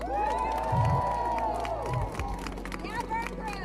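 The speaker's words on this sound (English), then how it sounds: "Give the amazing crew, including the Burn crew, a round of applause." Players at a Texas vampire LARP cheer for the crew, with high, sustained shouts and whoops over scattered clapping that thins toward the end.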